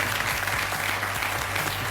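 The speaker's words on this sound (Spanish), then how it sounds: "Un aplauso para Marcel" A Chilean TV studio audience on the talk show El Informante claps steadily and warmly as a guest is welcomed, a dense, even burst of applause with no talking over it.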